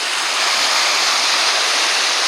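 Waves washing in and out along the Lake Erie shore, a steady, close, full broadband wash of surf with no pauses, filling the clip on its own.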